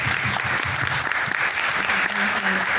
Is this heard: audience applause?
yes